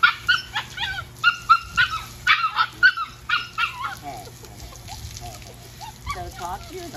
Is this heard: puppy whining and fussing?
yes